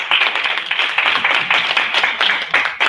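Sustained audience applause at a Uganda Nordic Baltic diaspora convention welcoming an ambassador, dense and steady clapping from a crowd filling the whole stretch, with no voices over it.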